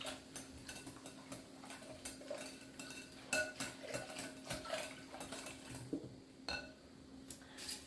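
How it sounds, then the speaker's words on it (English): Spoon stirring yeast into a bread mixture in a bowl in a homestead kitchen, a steady series of light metallic clinks and scrapes close by, with no talking. "And then we'll give it a stir and let it proof."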